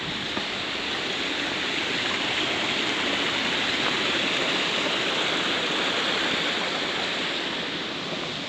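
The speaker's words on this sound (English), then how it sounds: "I guess this waterfall is the trail." A waterfall on a coastal rainforest trail on Vancouver Island roars steadily and loudly, a dense, unbroken rush of falling water close by with no other sounds.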